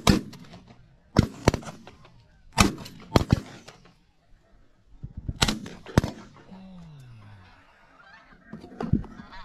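Shotgun blasts ring out during a snow goose hunt, sharp loud reports fired in quick pairs and clusters with pauses between, while geese honk in the background.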